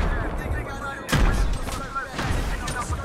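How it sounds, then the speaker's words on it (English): Grenade blasts in a first-person shooter, a heavy boom followed by a second, rumbling continuously with gunfire-like crackle, loud and close, amid game noise. "I'm throwing nades in there."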